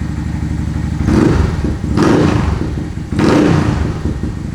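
A 2019 Honda Monkey engine with modified exhaust, intake and cam idles, then is revved three times in quick surges, each roar rising and falling back to a loud close idle.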